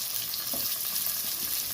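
Green chillies, garlic and tamarind sizzling in hot oil in a pan while being sautéed for Tamil pirandai chutney, a steady soft frying hiss with faint stirring scrapes, close and continuous.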